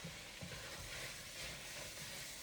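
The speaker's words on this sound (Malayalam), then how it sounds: "ഇങ്ങനെ ഒരുമിച്ച് നമ്മൾ ജസ്റ്റ് ഇളക്കി കൊടുക്കാം കേട്ടോ" Fried chicken and French beans being stirred in a hot pan, a steady sizzling hiss with soft scraping stirs throughout, close and continuous, with no talking.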